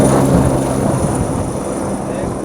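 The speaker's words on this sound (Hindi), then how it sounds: "हेलीकॉप्टर आया और वापस चला गया, इतनी जल्दी जल्दी यहाँ से उड़ान भर रहा है" Helicopter landing and lifting off at the Kedarnath helipad, a steady broadband rotor and engine roar held close and loud across the whole stretch, with no talk.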